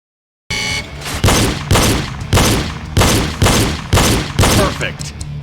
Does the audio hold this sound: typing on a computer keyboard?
no